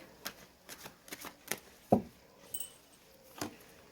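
Tarot cards are drawn and shuffled during a reading, giving soft, brief rustles and snaps that come in an irregular series, faint and close, with no talk.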